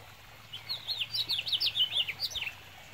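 Birds in a tree give a quick run of high, bright chirps, fairly close and clear over faint background hiss.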